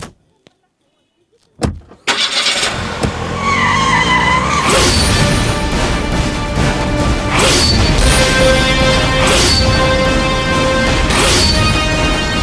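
After a brief quiet moment and a thud like a car door, a car pulls away fast with tires skidding and engine noise loud and sustained, with sharp bursts of squeal recurring over several seconds.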